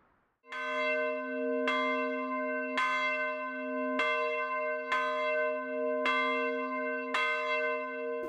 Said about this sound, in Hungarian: Amire figyelmeztet a harang